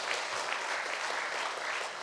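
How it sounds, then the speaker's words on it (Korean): An audience at a Korean church inauguration ceremony claps steadily, a dense, continuous wash of applause from a crowd filling the hall, with no talk over it. "감사의 박수 부탁드립니다."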